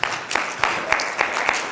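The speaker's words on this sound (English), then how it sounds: "So I want you to clap for that" Rhythmic, evenly spaced claps at a golf expo forum, a small group clapping in unison in short regular beats, fairly close.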